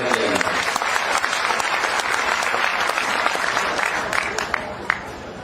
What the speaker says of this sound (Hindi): एक बार ब्रिजेंद्र प्रताप सिंह जी के लिए तालियों की गड़गड़ाहट से स्वागत किया।